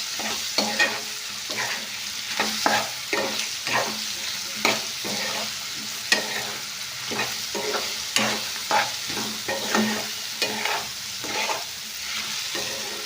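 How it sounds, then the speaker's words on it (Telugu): Ridge gourd pieces sizzle in a pan while a spatula stirs them in repeated scraping strokes, a steady close frying hiss with rhythmic clatter throughout and no talking. "పెట్టుకున్నటువంటి నేతి బీరకాయ ముక్కలు ఇందులో వేసుకుందామండి. ఇందులో వేసుకొని బాగా కలుపుకొని"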